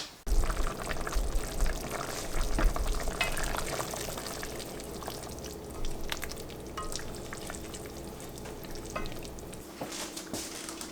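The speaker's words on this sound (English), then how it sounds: "We're going to let this cook 8 to 10 minutes on a simmer" Italian sausage tortellini soup simmers in a covered pot, giving a steady low bubbling and hiss with faint lid and pot knocks throughout, no voices.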